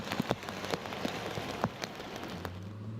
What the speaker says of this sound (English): Sporadic showers moving through city to city, dumping water across the entire area.